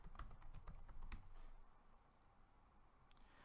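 Quick, close keystrokes on a computer keyboard fill the first second and a half, then fall quiet apart from a couple of final taps near the end, with no speech.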